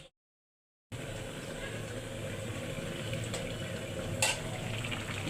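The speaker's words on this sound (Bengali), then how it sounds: "এখন ভাতে মাছটা জড়ায় নিচ্ছি" Fish being stirred and mixed into cooked rice, a steady soft scraping and rustle up close with a faint hiss, starting after a brief silence.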